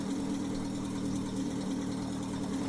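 A car engine in The Long Drive video game runs at a steady idle, a continuous low droning rumble with a faint rattle, moderately loud and unbroken.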